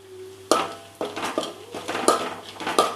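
Split dried red chillies are sautéed in a pan with a utensil, giving a series of close metallic scrapes and clinks in an uneven rhythm over a faint background hum, with no voices.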